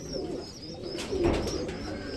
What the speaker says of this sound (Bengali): এত বড় সাইজের কি কবুতর এটা?